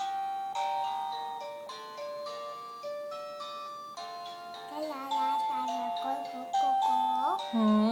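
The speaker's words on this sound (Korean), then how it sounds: "지금 그 시계로 알람 하는 거지?" An alarm clock plays a tinkling electronic melody in bright, beeping tones, steady and moderately loud, with a child's and adult's voices faintly around it.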